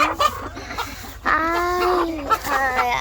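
Laying hens in a cage clucking up close, several loud, drawn-out calls and short clucks overlapping one after another with little pause.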